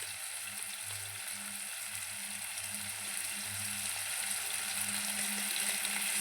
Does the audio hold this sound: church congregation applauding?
no